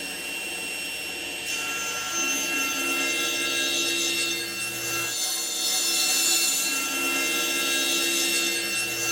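A table saw slicing through wood stock for a veneer chessboard table, the motor whine rising into a sustained loud cutting roar that holds for several seconds, no voices.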